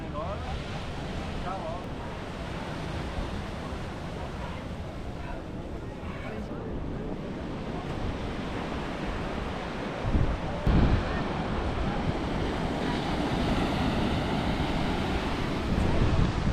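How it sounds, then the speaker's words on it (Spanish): Surf rolls in steadily at a beach in Porto de Galinhas, a broad continuous wash with wind buffeting the microphone and a couple of louder crashes near the end; faint voices sit under the noise. "¿Qué te parece la playa, Vané?"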